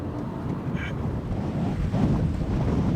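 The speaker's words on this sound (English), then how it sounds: "This is borderline the windiest I've ever been. Like, it's crazy amounts of wind." Strong wind on the Isle of Skye in Scotland buffets the microphone in a steady, loud roar with gusty rumble, rising slightly stronger toward the end.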